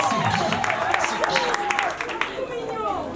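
Wedding guests applaud through the whole moment, broad clapping mixed with cheering voices and a sustained tone above it.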